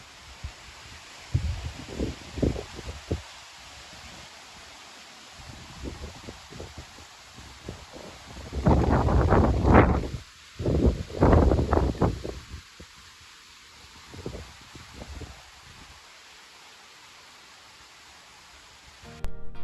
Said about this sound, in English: Here comes a big wind. Here comes Fiona.